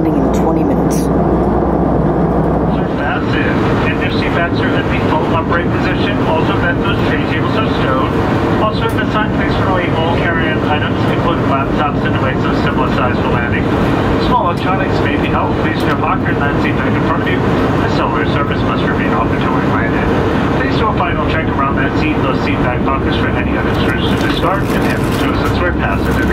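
JetBlue Airbus A320-200 cabin on descent into Atlanta: a steady, loud broadband engine and airflow roar filling the whole stretch, with someone talking over it.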